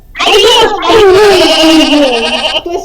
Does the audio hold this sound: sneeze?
no